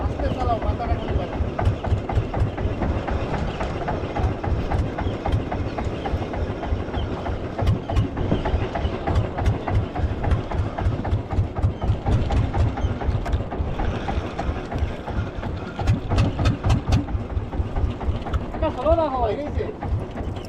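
A fishing boat's engine running slowly at sea off the Andaman Islands, a low steady chugging pulse throughout, with people talking over it.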